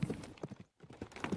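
A horse's hooves clip-clop in a steady trotting rhythm as a sound effect in a Tamil bedtime story, fairly faint with a short gap midway.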